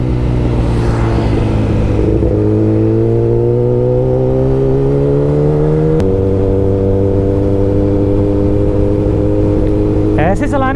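A Kawasaki ZX-10R inline-four superbike cruises on a highway with a loud, steady engine drone whose pitch rises and shifts through gears. A rider talks over it throughout.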